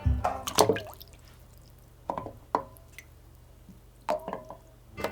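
Heavy Azobé hardwood, dense enough to sink, splashing into water: a few separate wet splashes and drips spread over several seconds, fairly close, with a low steady hum beneath.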